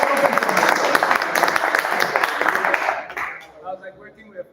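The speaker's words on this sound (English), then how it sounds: "And applause to Barry" Applause from an audience at a crypto and blockchain meetup in Buenos Aires, dense clapping for about three seconds that then thins out into a few scattered claps and murmurs.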